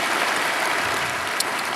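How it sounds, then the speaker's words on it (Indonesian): Congregation applause at a church sermon, a steady wash of clapping throughout, fairly loud and unbroken, with no voices over it. "Berikan tepuk tangan kita untuk Tuhan kita."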